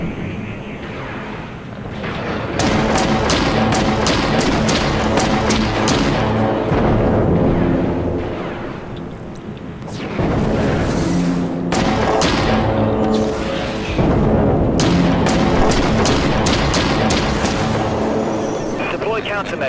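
Dreadnought video game space battle, with incoming enemy missiles and artillery fire striking an artillery cruiser. Repeated heavy booms and explosions form loud bursts, with rumbling engine noise between them and voices speaking over parts of it.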